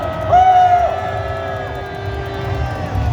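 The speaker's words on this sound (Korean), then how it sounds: "함성" A large crowd at a candlelight rally shouts and cheers in a sustained, loud roar, with a few drawn-out raised voices standing out above the mass.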